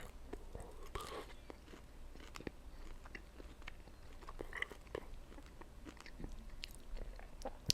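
Quiet, close-up chewing and crunching of grilled jerk-seasoned shrimp, with soft bites and wet mouth sounds scattered irregularly over a faint background.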